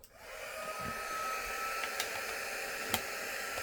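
A heat tool blows steadily over embossing powder to melt it, a continuous close whooshing hiss after a brief start-up, with a couple of faint clicks.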